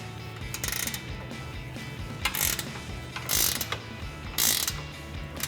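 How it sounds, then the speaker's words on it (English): An 18mm ratcheting wrench loosening a bolt on a Jeep Wrangler JL suspension, giving several bursts of rapid clicking ratchet strokes separated by short pauses, close and clear over a low background hum. "Now we can loosen this bolt up using our 18mm ratcheting wrench."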